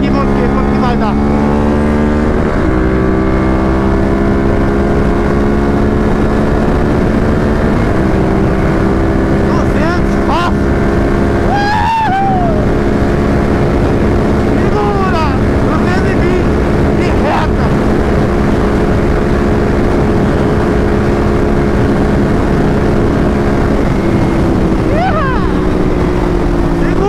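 A Ducati 796 motorcycle with a titanium exhaust revs hard and accelerates through gears, its loud engine note climbing and dropping in pitch with shifts, close and continuous for nearly half a minute.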